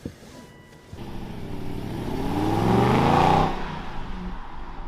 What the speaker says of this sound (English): So turn the key, hit the start button, and away we go.